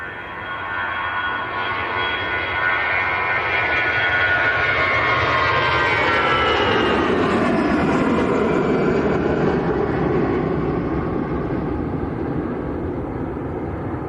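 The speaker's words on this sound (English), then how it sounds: "look at that, beautiful aircraft" An Emirates Airbus A380 at Manchester Airport, its engines giving a long, broad roar that swells to a peak midway and then slowly eases, heard from a distance with no talk.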